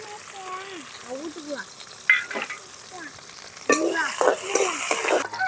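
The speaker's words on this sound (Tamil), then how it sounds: "நல்லா வெங்காயத்தை நல்லா செவக்க வறுத்துக்கணும்" Onions sizzle and fry in a pan while being stirred, with scraping spatula strokes and a steady hiss, louder toward the end, under a woman's speech.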